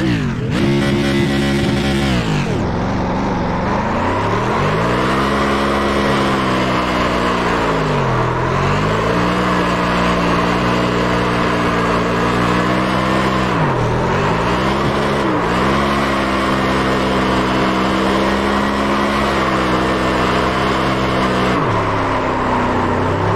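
Whelen Modified race car engine at Five Flags Speedway in a racing video game, loud and continuous, with the pitch climbing and dipping through repeated lifts and accelerations.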